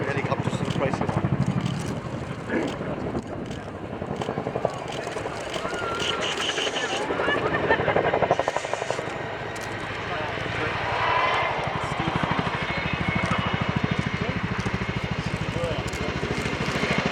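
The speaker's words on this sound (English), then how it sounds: "I present to you the 2016 RIAT Fairford Chinook display team." A Boeing Chinook helicopter flies a display at the RIAT Fairford airshow, its twin-rotor thudding and turbine roar holding steady and loud for the whole stretch, with a crowd and announcer murmuring underneath.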